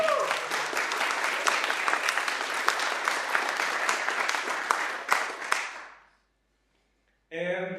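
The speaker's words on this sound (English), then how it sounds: "please give her a round of applause" An audience at a EuroSciPy conference closing session applauds loudly and steadily for about six seconds before the clapping fades to silence, and then a voice begins speaking.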